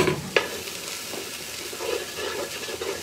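Holy trinity vegetables for an étouffée sizzle steadily in a hot pan while being stirred, with a sharp clink of the spoon early on and a continuous soft frying hiss throughout.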